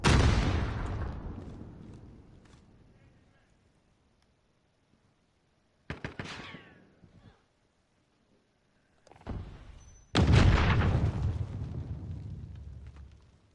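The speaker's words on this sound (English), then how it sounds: "Allied cruise missile launched." An allied cruise missile strike in the video game Modern Warfare, heard as a loud close blast that rumbles away into silence, then scattered sharp bangs and a second heavy explosion with a long rumbling tail.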